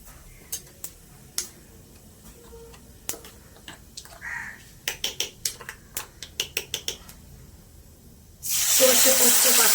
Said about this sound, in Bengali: এবার কড়াইতে কালো জিরে ফোড়ন দিয়ে দিলাম।